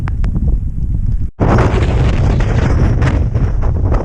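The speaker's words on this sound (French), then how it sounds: "Entre le vent et la pluie, c'est un sacré vent là." Strong mountain wind blasts across the microphone on a high pass near the Vallée des Merveilles, a loud continuous roar that drops out briefly then returns at full force, with no talking.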